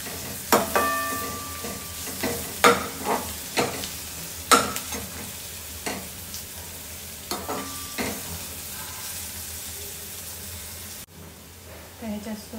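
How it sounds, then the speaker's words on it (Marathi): Vegetables with crushed ginger are stir-fried on a low flame, giving a soft steady sizzle broken by repeated scraping stirs of a utensil against the pan, close and moderately loud. "मंद गॅसवर एकदम म्हणजे बारीक गॅसवर ते छान परतून घेणार आहे सगळं"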